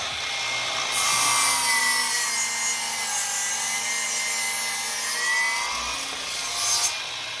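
A Milwaukee 18V cordless miter saw cuts through a 4x4, giving a loud, steady high whine with a grinding bite through the wood that holds for several seconds and swells near the end.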